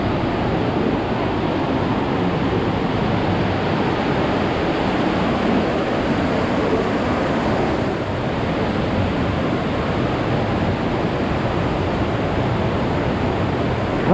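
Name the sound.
water falling in the Partnach gorge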